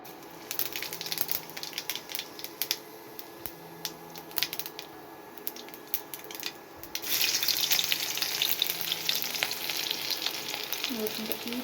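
Chopped garlic and onion frying in oil in a home kitchen pan ahead of fish, a steady close sizzle that grows louder and denser partway through, with a running tap and water splashing at a sink in the background.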